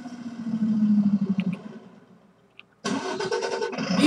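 A video game car that sounds like a truck starts up: a low engine rumble runs first, dies away to near silence, then a loud, bright burst of engine noise kicks in and holds to the end.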